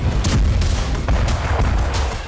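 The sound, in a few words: big explosions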